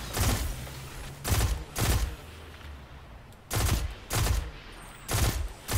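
Semi-automatic rifle fire in the shooter game Destiny 2: six loud, evenly spaced shots in pairs and singles, each a sharp broadband crack with a short low tail, over a quiet game ambience.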